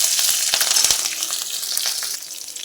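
Green chillies hit hot oil already holding a dried red chilli and black cumin seeds, giving a steady, close, crackling sizzle with small pops throughout, with no talking.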